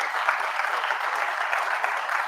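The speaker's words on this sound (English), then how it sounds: "let's give this man a round of applause" Crowd applauding at a live comedy awards show, a brief, even burst of clapping throughout.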